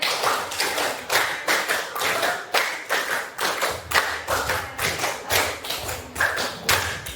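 Children clap out the tepuk patir game in a steady rhythmic run of sharp, close hand claps, about two per second, carrying on alone for several seconds with little talk.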